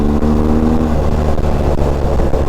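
BMW GS 1250 adventure motorcycle engine running loud and close, a steady low rumble with rising revs, no talk over it.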